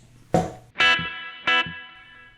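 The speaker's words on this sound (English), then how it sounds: "That's a tape delay." Guitar played through the tape delay on a Cerberus multi-effects unit: three plucked notes, each followed by a softer, slightly smeared repeat that decays, with sustained tones ringing between them.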